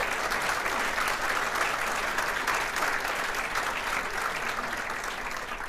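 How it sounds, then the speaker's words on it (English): A crowd claps steadily in sustained applause, dense and even throughout, slowly easing off toward the end. "a big round of applause"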